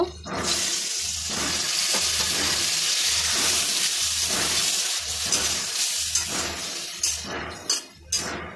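Water poured into a pan of fried pointed gourd sets off a loud, steady hiss and bubbling sizzle across the whole stretch, with a few brief clinks and splashes near the end.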